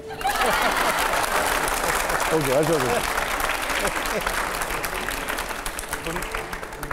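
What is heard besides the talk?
clapping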